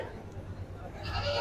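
Goats at a busy rural goat market in Sarojganj bazaar bleat faintly amid low crowd murmur and nearby voices, the bleats brief and partly masked by the market bustle.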